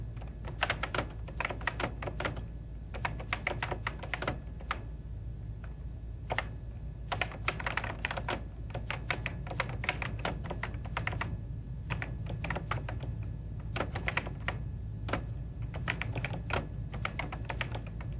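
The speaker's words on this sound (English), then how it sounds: "In a new document, type some sample text." Steady, close computer keyboard typing of sample text in a Word 2000 document, a continuous stream of quick light key clicks with brief pauses and no talking.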